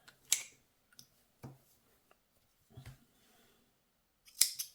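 Scissors snip through crochet yarn while making a granny square, giving a few sharp, close clicks spaced apart, with quiet pauses between the cuts and no talking.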